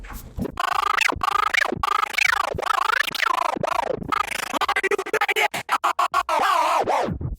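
Jog cutter effect from a Pioneer DDJ-400 DJ controller slices a track into loud, rapid scratch-like sweeps and stuttering cuts that quicken toward the end, with no talking.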